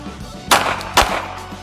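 Two sharp handgun shots ring out about half a second apart during a concealed carry shooting drill, loud and close with brief decays between them.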